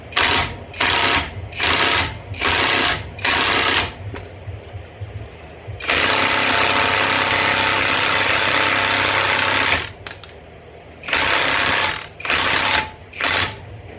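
Impact wrench driving the crank bolt on an LQ4 6.0 V8 during a 1971 GTO swap: loud, close short hammering bursts, then a sustained four-second run, then several more quick bursts, with no talking.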